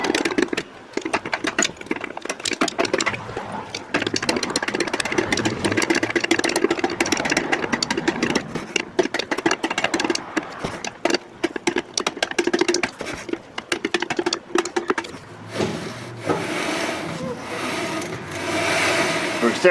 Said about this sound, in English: once these shoes hit these rotors, which have a lot of rust on them, they're gonna make some noise